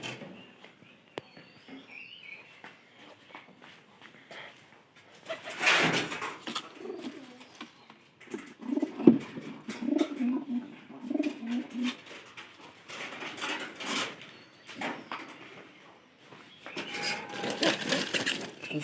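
Pigeons coo in bursts around a coop, low throaty calls coming and going at close range, mixed with wing flutters and rustling.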